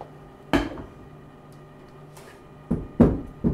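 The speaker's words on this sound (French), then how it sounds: "On tape l'assiette pour bien étaler le riz au fond, avec un torchon posé" A plate of risotto tapped down onto a folded kitchen towel, giving four soft, dull knocks, one on its own and then three close together, with quiet room tone between them.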